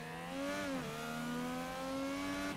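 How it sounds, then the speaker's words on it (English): An IndyCar engine in iRacing at the Spa circuit drones steadily at high revs, the pitch dipping briefly as it downshifts and then climbing again, loud and continuous with no talk. "There we have engine noises"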